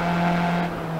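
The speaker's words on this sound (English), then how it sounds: "you can hear on board, you can hear the engine" A race car engine heard from on board during a Formula racing event at Road America, a steady loud drone holding a constant pitch through the short stretch, with no talk over it.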